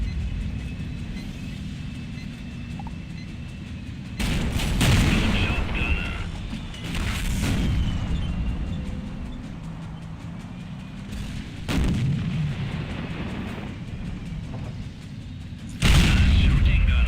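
Tank cannon fire in the World of Tanks video game, several heavy booming shots spaced seconds apart over a low engine rumble, loud and close.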